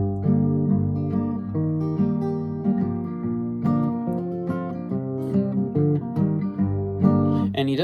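An acoustic guitar plays the main chord progression of a song, with strummed and picked chords ringing close and clear, moving steadily through changes with no voice.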